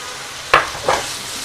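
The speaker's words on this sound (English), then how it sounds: "Just put a little bit of oil in the pan. Put the prawns in." Prawns dropped into hot oil in a pan give two brief bursts of sizzling, the first louder, over a faint steady background hiss.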